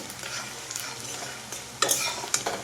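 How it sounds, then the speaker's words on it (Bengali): Onions sizzle and fry in a pan while a spatula stirs and scrapes, producing a steady crackle with sharper metallic scrapes near the end, close and fairly loud. "যাতে কাঁচা না থাকে পেঁয়াজটা এমনভাবে ভেজে নিতে হবে"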